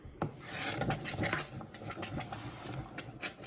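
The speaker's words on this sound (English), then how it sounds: "You have to keep stirring it" A spoon scrapes and swirls through thickening butterscotch pie filling in a pot, a soft, uneven rasping with light knocks against the metal, close and fairly quiet, without speech.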